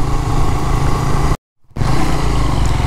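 A Suzuki Gixxer motorcycle riding along an off-road village road, with a loud close steady engine drone and rumbling wind that drops out to silence for a fraction of a second and then resumes.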